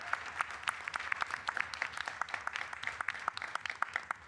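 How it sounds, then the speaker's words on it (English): Audience applause for four entrepreneurs at a climate tech prize finals on a live event stage: steady, dense clapping from a crowd, sustained and fairly even throughout. "Let's do one more round of applause for these 4 entrepreneurs."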